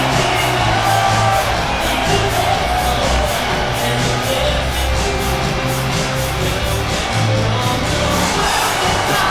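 A live wrestling event crowd in Kansas City roars in a steady, dense wash of cheering and yelling that fills the whole stretch without a break.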